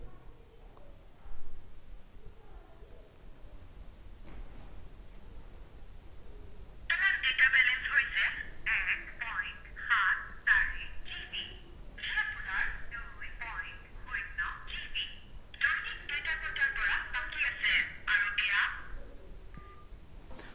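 A phone call ringtone plays in repeated bursts from a cheap T800 Ultra smartwatch's small speaker, starting partway through after a quiet stretch, with faint talk underneath.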